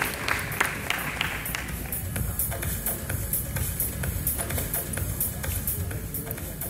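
An audience at a men's open bodybuilding contest claps for the competitors on stage, a busy, uneven patter of hands mixed with shuffling and crowd noise that runs throughout.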